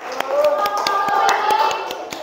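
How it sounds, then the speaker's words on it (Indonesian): A class of children clapping hands for a classroom winner, several claps in quick rhythm close by, with voices underneath. "Tepuk tangan Siti Nurhalimah."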